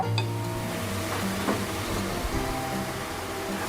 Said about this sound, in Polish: Na patelni rozgrzewam sporo oleju roślinnego